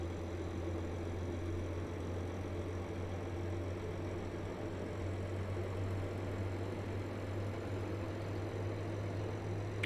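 Simulated Class 101 diesel multiple unit engine in Train Simulator 2020, a steady low rumbling drone that runs unbroken and fairly loud throughout, with no talking.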